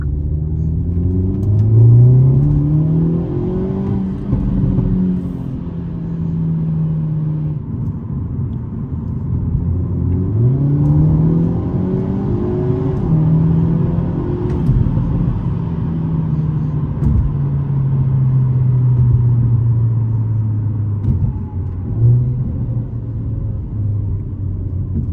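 A 2022 Hyundai Elantra N accelerates on the road, its engine loud and close as it climbs through the revs, drops at each of several gear changes, and builds again in a repeating pattern.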